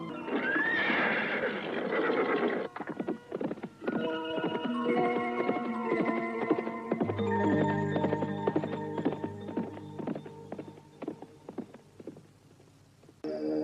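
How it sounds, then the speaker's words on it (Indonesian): Horses whinny loudly and repeatedly over steady clip-clopping hooves in a radio drama sound effect, with a sustained musical drone rising partway through. "Setelah melewati hutan belukar, kedua orang penunggang kuda"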